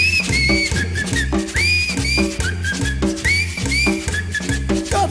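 Melodic whistling rides over a steady accordion-driven tropical cumbia band playing live in a theatre concert, with a bouncing bass and beat, the whistled phrases repeating in loud, bright swoops.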